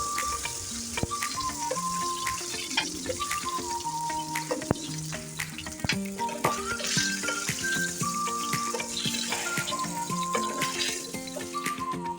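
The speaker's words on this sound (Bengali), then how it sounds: "তাই সামান্য এপিট ওপিট করে হালকা ভেজে নিচ্ছি" Pieces of shol (snakehead) fish fry lightly in hot oil, a steady close sizzle with scattered bubbling pops, mixed with background music and faint water-like clatter throughout.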